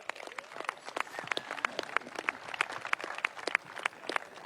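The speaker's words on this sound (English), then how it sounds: "Final round of applause, please, for North Otago." A rugby crowd at a cup final claps steadily, dense overlapping applause that holds at a consistent level throughout.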